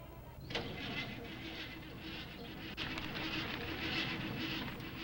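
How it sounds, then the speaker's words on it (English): A car engine cranking and failing to start, a steady buzzing whir of the starter that continues for about five seconds without the engine catching. "there were days when this car simply wouldn't start"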